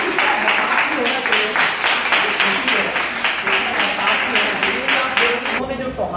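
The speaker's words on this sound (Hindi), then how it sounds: "एक बार आप इनके लिए तालियों को बजा दो।" Rhythmic audience clapping for Corona warriors at a gathering in Tohana, Haryana, steady and sustained for several seconds with voices heard through it.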